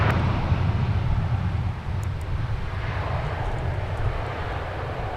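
A United airliner arriving at Minneapolis–St. Paul from Chicago O'Hare gives off a steady, broad engine roar, loud and continuous, easing slightly partway through, with no talking.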